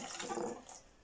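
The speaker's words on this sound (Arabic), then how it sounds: "كيف ما تشوفوا نكب كاس الحليب" Milk poured from a glass into a mixing bowl while making a chocolate cake, a short, steady liquid splash heard up close with no voices.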